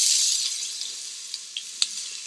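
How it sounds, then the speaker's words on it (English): A steady, soft sizzle of aromatics, including ginger, sautéing in hot oil, with a few faint pops and crackles. "we're going to start to pour the aromatics in to saute."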